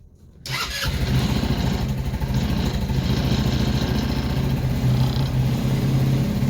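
A Yerfdog Scout compact utility vehicle's small engine cranks and catches on a cold 30-degree day, then settles into a loud, steady, throbbing idle close by.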